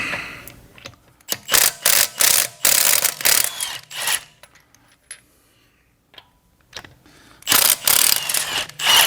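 An impact wrench with an anvil works on a car wheel in two loud, close bursts of rapid hammering rattle, each broken by short pauses and separated by a quieter stretch, with no one talking.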